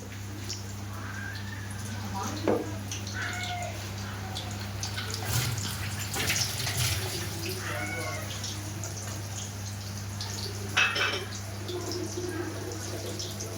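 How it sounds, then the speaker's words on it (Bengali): Soft sizzling and crackling of battered eggplant fritters, beguni, being fried in oil, low and steady under a constant hum and occasional clinks. "গাইস এখানে আমরা দেখতে পাচ্ছি যে সুন্দর করে বেগুনি ভাজছে আমাদের আন্টি"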